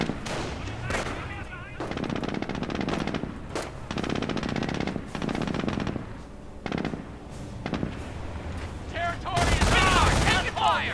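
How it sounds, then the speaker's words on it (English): MG42 machine gun fire in the Company of Heroes strategy game, long rattling bursts repeating one after another with short gaps, ending in a dense loud volley layered with other battle effects. "MG42 from Symbiosis"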